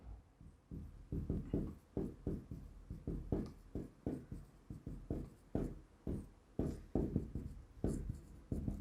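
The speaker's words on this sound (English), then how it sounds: "let me write here" Chalk or marker writing out a regular expression on a lecture board, a steady run of short rhythmic strokes and taps sounding close and moderately loud, with no talk over them.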